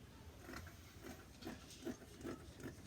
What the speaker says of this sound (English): Get your scissors, and now we're going to cut the sleeve out.